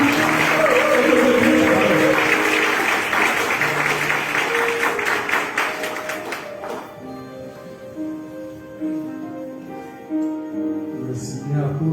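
A large church-gathering audience claps and cheers loudly and steadily for the first six seconds, then the applause thins and fades under sustained tonal music and murmuring.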